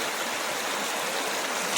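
Steady rushing water from a nearby stream at Bhavnath below Mount Girnar flows continuously, a dense, even gurgling hiss with no other sounds.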